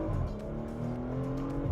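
A Porsche Macan on its standard exhaust gives a steady, moderately loud engine drone while driving, smooth and continuous, with a slight rise in pitch near the end.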